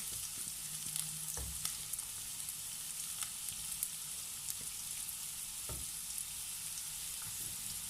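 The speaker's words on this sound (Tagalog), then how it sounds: "atin po munang igigisa ang ating sibuyas at saka ang ating ginger" Onion and ginger sauté in about two tablespoons of cooking oil in a pan for a chicken feet curry, giving a steady, close hiss of frying with occasional soft thumps of stirring.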